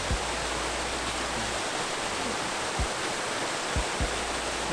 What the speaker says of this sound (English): And we are at the waterfalls.